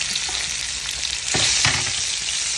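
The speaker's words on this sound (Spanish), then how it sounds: "ahora voy a poner a freír cebolla y jitomate" Onion and tomato fry in a hot pan for a shrimp broth, giving a steady, loud sizzle throughout, with a few scraping stir strokes midway and no voices.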